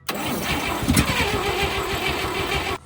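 The old 1958 Chevrolet Apache pickup truck engine cranks and catches, a loud, close, continuous rumbling churn for about three seconds before cutting off abruptly.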